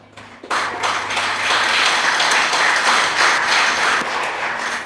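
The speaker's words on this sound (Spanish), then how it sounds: "Le damos un aplauso al Señor." Applause from a church congregation bursts in after a brief quiet start, then holds as a loud, full clatter of many hands to the end.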